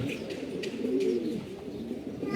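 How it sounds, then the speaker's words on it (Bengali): Giribaz pigeons coo steadily and close by during a racing-pigeon competition, their soft, throaty calls repeating over light chirps and background bustle. "দুটোই গিরিবাস কবুতর"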